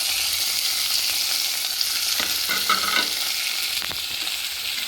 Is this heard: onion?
yes